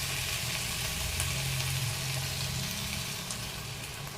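Four beaten eggs with a little milk frying in a pan for a homemade omelette, a steady, even sizzle with a low rumbling hum underneath, close and continuous throughout.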